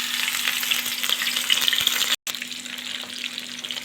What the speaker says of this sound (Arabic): حطيتها في الزيت بالشكل ده، هسيبها تتحمر واقلبها على الوش التاني